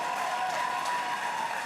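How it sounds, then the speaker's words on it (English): Crowd applause for MMA fighters heading to the center of the ring at a Rumble on the River event, a steady wash of clapping with a faint tonal hum running beneath it. "give them a big round of applause for this amazing battle"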